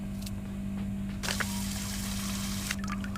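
Water pours into a bowl in the video game I Am Cat: a steady, close splashing stream that starts about a second in and runs for over a second, over a low, constant background hum.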